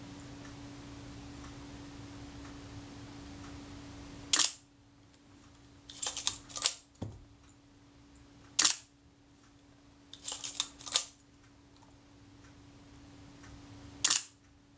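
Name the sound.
Zeiss Ikon Contaflex Bessamatic camera shutter release and film advance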